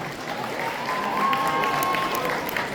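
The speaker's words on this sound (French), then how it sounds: "Vous pouvez l'applaudir bien sûr." Audience applause at a cosplay contest during the Kamo Con 2026 award ceremony, a steady wash of clapping sustained across the whole stretch at moderate level.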